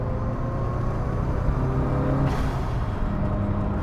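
1988 Lancia Delta HF Integrale engine drones as a steady, fairly quiet low rumble from inside the car while driving, without talk.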